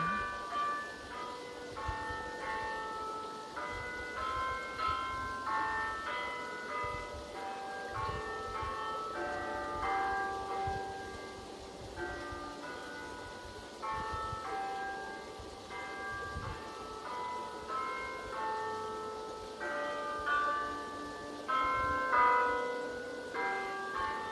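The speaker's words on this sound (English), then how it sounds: "Church bells ring." Church bells ring on and on in an irregular, overlapping peal, sounding distant and soft throughout.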